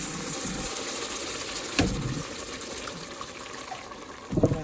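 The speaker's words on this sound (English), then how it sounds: "So I heated my kettle. And we're just going to pour that" Warm water from a kettle poured into a pan of asparagus risotto rice, a steady close gushing fill that runs throughout, with a brief stir or clatter near the end.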